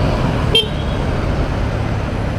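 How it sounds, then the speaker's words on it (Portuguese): A motorcycle horn gives one short toot amid steady London street traffic rumble, loud and close, standing briefly above the road noise. "Eu dei uma buzinadinha só pra mostrar que eu tava passando ali"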